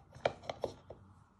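Garlic being chopped on a board for minted lamb chops, four quick knife taps in a short row, close and fairly quiet, with no talking.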